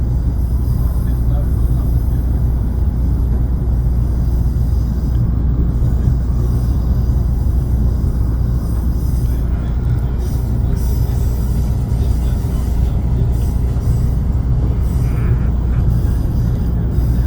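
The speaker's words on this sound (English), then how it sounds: "Alright, we got a train." A commuter train rumbles past at close range, a steady heavy roar of wheels and carriages that holds loud and unbroken throughout.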